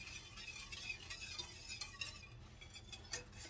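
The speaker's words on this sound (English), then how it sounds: "So let's just keep stirring and stirring." Pudding mixture of warming milk and tempered eggs stirred in a pot, a faint continuous scraping and light clinking of the utensil against the pot, close but very quiet.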